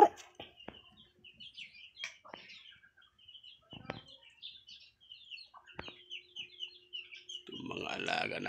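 Small chicks on a little backyard farm chirp in quick, high peeps scattered across the scene, with a few soft clucks, and a brief burst of broader rustling noise at the end.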